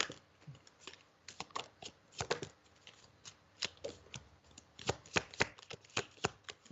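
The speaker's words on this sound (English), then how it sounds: "I'm just going to reshuffle and see if it comes out again" A deck of tarot cards is shuffled by hand in quiet surroundings, with rapid crisp riffles and soft slaps coming in uneven bursts, close and fairly faint.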